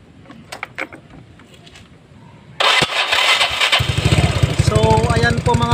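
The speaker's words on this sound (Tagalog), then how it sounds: "umandar na po itong motor ni sir" Motorcycle fitted with a replacement CDI converted to a Lifan 110 unit: quiet shop sounds and light clicks, then the engine catches abruptly and settles into a close, loud, rapid idle that chugs steadily to the end.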